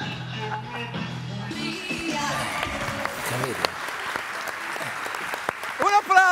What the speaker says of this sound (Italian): Un applauso a Diodato